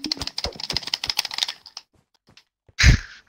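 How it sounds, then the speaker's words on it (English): Rapid clicking of game controller buttons being mashed during a Murder Mystery 2 fight, a dense flurry of quick taps that fades out, followed by one louder thump. "Zach, when you're usually fighting, we can hear your controller like this"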